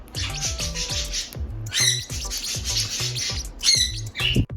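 A Sierra parakeet calls close to the microphone in repeated harsh squawks and bright chirps, coming in quick bursts with short pauses between them, loud and alone with no talking.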